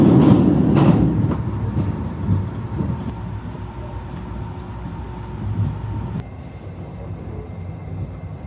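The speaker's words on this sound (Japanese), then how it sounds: "この列車は特急白雪5号新潟行きです。" Express train Shirayuki no. 5, bound for Niigata, rumbles at Kashiwazaki station in a steady low roar, with a few short clanks and a change in tone near the end. No one speaks.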